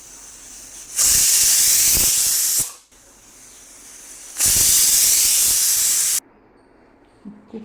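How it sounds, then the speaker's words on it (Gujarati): Pressure cooker on a full gas flame boiling chana, letting off two long, loud bursts of hissing steam whistle separated by a quieter steady hiss, ending in a low background murmur. "ફૂલ ગેસ ઉપર 4-5 વિસલ થવા દેવાની"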